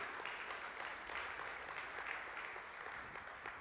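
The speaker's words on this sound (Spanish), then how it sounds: "Le da ese aplauso fuerte al Señor" Church congregation applauding the Lord during a Spanish-language sermon: soft, continuous clapping from many people, somewhat distant and faint, with no voices over it.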